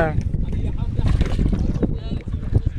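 Small rowboat out on the water off Rabat, with wind buffeting the microphone, sloshing water and creaking movement, while people shout and talk over it throughout.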